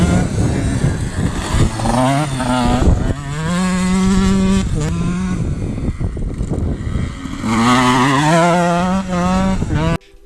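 A KTM 125 EXC enduro motorcycle corners and then accelerates, its engine note rising and falling in loud, continuous revving sweeps close by.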